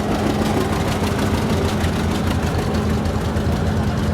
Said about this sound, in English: Hear that pop? That's that famous John Deere pop.